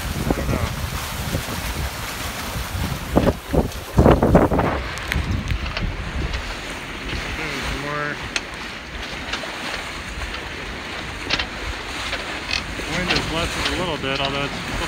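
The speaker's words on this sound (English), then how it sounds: "Although it's still fresh, probably 12 knots, beating into the wind" A Corsair 24 trimaran beats upwind in fresh wind of about 12 knots, with loud steady wind buffeting and water rushing along the hulls and occasional thumps and rattles aboard.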